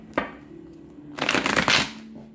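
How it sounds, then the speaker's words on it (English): Tarot cards are shuffled by hand close up: a single quick snap of cards, then a dense riffling burst lasting about a second, with no one talking. "One last shuffle for Pisces."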